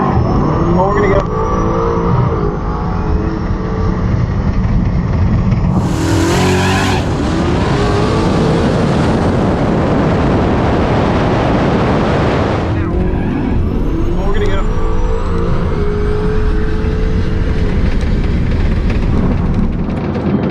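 A Tesla Plaid at 84% battery launches on a drag strip against big-tire nitrous cars: loud, continuous roaring and tire noise fill the whole stretch, with a sharp burst partway through and people talking over it.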